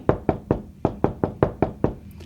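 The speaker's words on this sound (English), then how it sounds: "there was a knock at the door." Eight firm knocks sound on a door in a steady, even rhythm, close and loud, each a sharp distinct rap with no talking over them.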